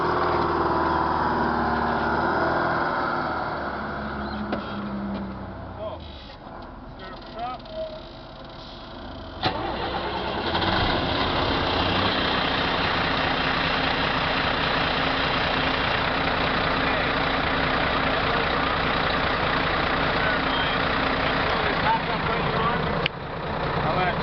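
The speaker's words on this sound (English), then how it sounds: "I'm going to go and start up the truck." A truck engine turns over and settles into a steady, loud idle that runs continuously, with a rougher, quieter stretch just before it catches and a brief knock near the end.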